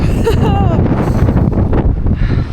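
Strong wind in the Australian outdoors buffets the microphone with a loud, steady roar and rumble for the whole stretch, with a faint voice early on.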